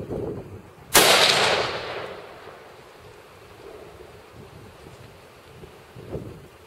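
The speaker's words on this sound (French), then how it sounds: "il y a tellement de bruit à cause du vent" Strong gusty wind buffets the microphone outdoors at a shooting range, with a sharp loud burst early on, then a roaring rush that slowly fades to a steady low blowing.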